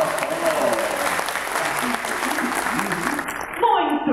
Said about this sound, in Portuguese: Uma salva de palmas para nossa participante.